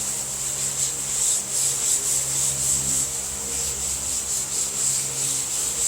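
A soft sanding block rubs back and forth across a muscle car body, making close, even, rhythmic scraping strokes about every half second over a steady hiss.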